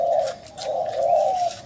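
A dove coos softly in a low, rolling call, repeated over a brief moment with faint background air.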